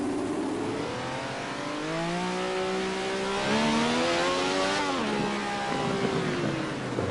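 A million-dollar car's engine revs in the Assetto Corsa racing game, pitch climbing through gears and dropping at shifts, a continuous loud whine with no talking.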